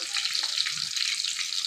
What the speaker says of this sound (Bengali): আদা রসুনের পেস্টটা আমি তেলে দিয়ে এর সাথে সুন্দর করে ভাজা ভাজা করে নেব